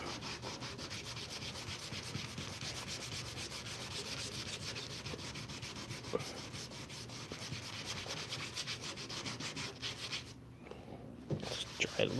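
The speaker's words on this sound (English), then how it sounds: "I will give it one last wipe to see how well it did in this short period" Rusty metal is wiped after a vinegar soak, producing steady close rubbing and scrubbing friction that continues for about twelve seconds, with a brief pause near the end.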